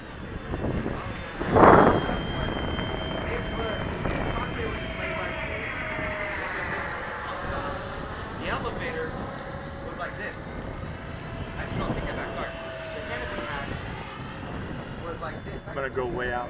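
An L-39 jet flying low along a runway gives a sustained turbine whine with shifting, sweeping pitch, carrying on under close talk.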